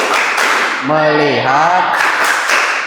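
A classroom performs the rhythmic 'tepuk fokus' clapping routine, with crisp group claps at either end and a chanting voice in between.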